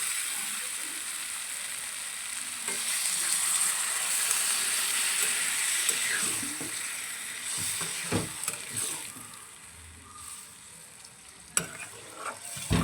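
Potatoes and prawns fry in spiced oil with a steady hiss, then water goes into the pan and the sizzle drops and sputters, with a few scraping stirs and clanks near the end.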